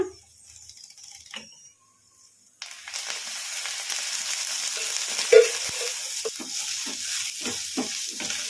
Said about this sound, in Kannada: ಈಗ ಇದಕ್ಕೆ ಒಂದು ಸ್ಪೂನ್ ಎಣ್ಣೆ ಹಾಕಿ ಫ್ರೈ ಮಾಡ್ಕೊಂಬಿಡೋಣ